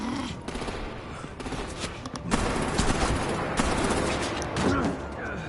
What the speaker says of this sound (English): Oh damn, she got shot.